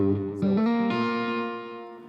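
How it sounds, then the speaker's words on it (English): Electric guitar played through an amp modeller with a simple delay effect switched on, a sustained chord with a second attack that rings out and slowly decays, clear and alone. "Put on a simple delay."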